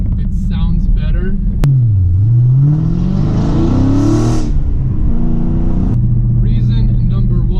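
A Dodge Challenger Scat Pack's 6.4-liter, 485-horsepower V8 is revved hard, its loud rising and falling growl swelling in one long pull before settling back to a steady rumble.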